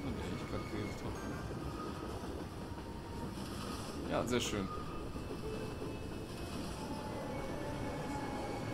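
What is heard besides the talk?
S-Bahn commuter train passing in the video game Cities: Skylines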